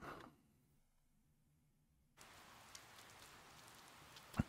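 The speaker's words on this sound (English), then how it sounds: "It's another rainy day." Steady patter of rain in the video game Persona 4 Golden, starting suddenly after a short quiet stretch and continuing as a soft, even hiss with no voices.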